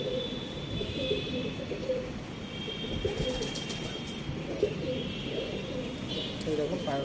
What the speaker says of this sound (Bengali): আরেকটা পায়রা দেখাচ্ছি, চটিয়াল, ওরই ভাই এটা